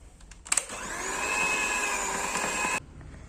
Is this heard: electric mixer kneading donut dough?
yes